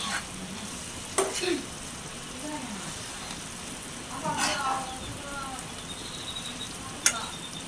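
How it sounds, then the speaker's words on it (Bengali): Pieces of pangas fish with the tail sauté in a pan, a soft steady sizzle with a few scraping stir strokes and clinks, fairly quiet, with a voice speaking intermittently over it. "আর লেজ, এগুলোকে দিয়ে আমি এগুলোকে ভালো করে কষাবো।"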